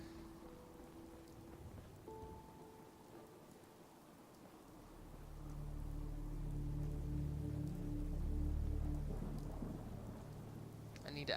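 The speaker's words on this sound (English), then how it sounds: "Hope you enjoy the rain." Steady rain falls in Fallout 4 VR, a broad wash that swells louder midway with a low rumbling undertone like distant thunder, heard alone without voices.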